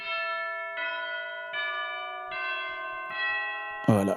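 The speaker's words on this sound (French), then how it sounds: "voilà, les cloches" Church bell preset from Sonuscore The Orchestra sample library: five clear, sustained bell strikes ring out at an even pace, each with a long shimmering tail, followed at the end by a brief burst of a different sound.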